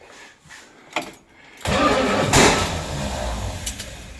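A car, nicknamed Ron Burgundy and fitted with a TH400 transmission, cranks on the key and catches with a loud, rough burst that settles into a steady running rumble after a few quiet clicks.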